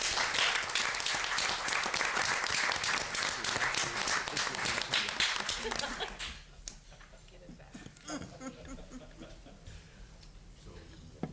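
Round of applause from the audience at a city council meeting, steady and dense clapping for about six seconds before it thins out into scattered claps and murmuring.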